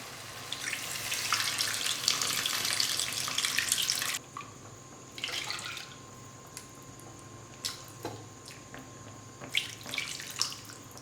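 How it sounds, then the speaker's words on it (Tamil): Tamarind water poured into a cooking pot for vatha kuzhambu, a liquid pour splashing for about four seconds, then shorter intermittent pours and drips, close by with no talk. "இப்போ இந்த புளி கரைசலை சேர்த்துக்கிறேன்."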